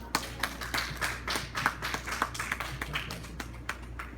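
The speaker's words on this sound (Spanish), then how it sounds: "Dale un fuerte aplauso al Señor." A church congregation claps in a quick, fairly even rhythm of sharp hand strikes, heard at moderate distance in a reverberant room for a few seconds.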